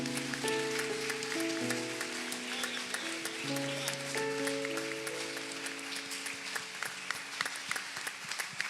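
A church congregation claps steadily with a sustained patter of applause during a sermon while sustained organ-like musical chords play underneath.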